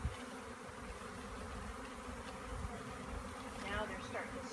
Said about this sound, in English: Yeah, the buzzing on your hands is weird.